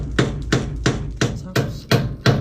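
Hammer taps on a nut left threaded onto a Triumph Spitfire suspension joint: seven sharp, evenly spaced metallic strikes, close and loud, each ringing briefly before the next.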